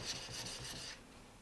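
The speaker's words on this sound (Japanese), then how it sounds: "なので縦に置いてこの向きで縦に研ぐ方がブレにくいので" A Japanese kitchen knife is drawn in straight lengthwise strokes over a whetstone, giving close, steady rasping scrapes for about a second before going quiet.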